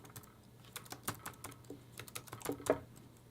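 Typing on a computer keyboard while entering a script file name, with irregular quick key clicks at close range that grow a little louder and denser toward the end, no voices.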